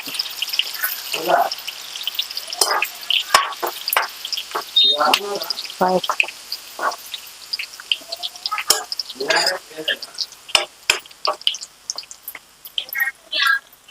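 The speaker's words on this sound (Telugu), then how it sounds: "ఎల్లిపాయ ముద్ద వేసిన ఇది బాగా ఫ్రై అవుతుంది" Garlic paste sizzles in hot oil in a pan, crackling in uneven bursts with occasional spoon scrapes, close by; a voice speaks quietly over parts of it.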